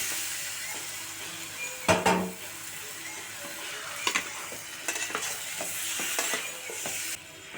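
Chicken frying in oil in a pan: oily sizzling with a few sharp scraping and clattering stirs at irregular moments, steady frying hiss throughout, no talking.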